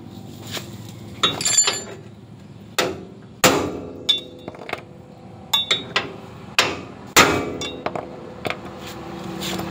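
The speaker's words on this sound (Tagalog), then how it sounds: "pupupukin natin para ma-press ng onte" A broken motorcycle gear change pedal is pressed with about a dozen sharp, ringing metallic hammer blows, struck close up in irregular groups with brief pauses between.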